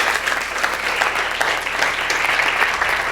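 Sustained applause from a large audience at a business talk in Nashville, dense and steady clapping throughout at an even, loud level with no voices over it.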